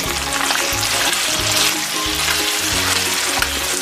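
Onions and green onion sizzling in a pan on medium heat for ackee and saltfish, a loud steady close crackle with a repeating low rhythmic pulse underneath and no talk.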